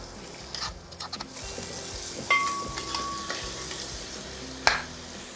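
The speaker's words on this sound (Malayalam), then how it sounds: "നമുക്കിതിലേക്ക് സവോള ചേർത്ത് കൊടുക്കാം" Onion added to a hot pan of frying ginger, garlic, green chili and curry leaves, giving a steady close sizzle with scraping stirs and a sharp utensil clink near the end.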